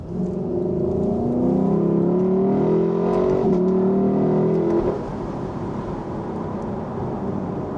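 A sports car's engine revs hard up close, rising and falling in strong tonal sweeps for about five seconds before settling into a lower steady drone.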